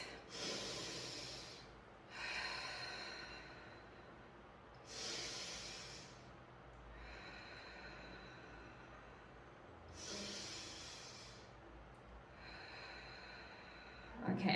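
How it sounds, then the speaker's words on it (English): Slow, deep breaths drawn in and let out during a seated crown pull energy exercise, with fingertips together on the head; three or four long airy inhale-exhale swells spaced a few seconds apart, close and quiet. "you're just going to take 2 or 3 deep breaths"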